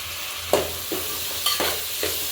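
Chopped tomato fries in a hot pan for a prawn biryani meal, with a steady close sizzle broken by a few scraping stirs of a spoon.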